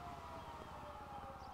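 A fire department siren in GTA V wails steadily at a distance, a faint sustained tone beneath low background rumble.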